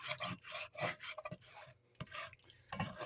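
A spoon scrapes browned bits from the bottom of a pan while the pan is deglazed with peanut oil for a gumbo. The rasping strokes are soft and repeat in an uneven rhythm.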